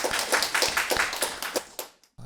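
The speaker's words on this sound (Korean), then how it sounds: "우리 박수, 큰 박수 부탁드릴게요" Lecture-hall audience clapping for a scholarship student at a LEET exam-prep seminar: steady, fairly close clapping from a small crowd for about two seconds before cutting off abruptly.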